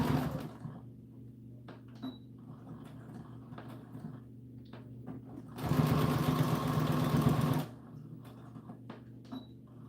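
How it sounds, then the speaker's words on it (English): A sewing machine stitches an American Girl doll dress in one steady, close burst of whirring lasting about two seconds, amid quiet handling noises before and after. "position this to be sure you're not sewing anything together that you don't want to sew"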